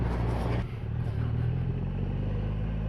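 A Triumph Rocket 3 motorcycle being ridden gives a steady, loud, low engine drone, with wind rushing throughout and a brief dip near the start.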